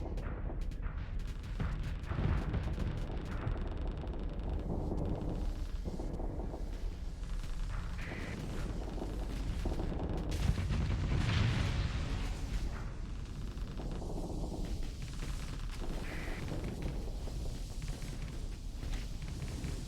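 Rockets fire and explode through a space battle in the game Starsector, a dense stream of booming blasts and rumbling detonations with bursts of crackle, loud and continuous with no speech.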